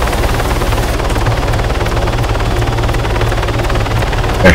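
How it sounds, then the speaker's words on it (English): Helicopter in the Arma 3 video game, an Attack Hummingbird in a King of the Hill match, with a steady, loud rotor thump and engine whine that continue without a break and without any talk. "now there's a helicopter on top of tower one."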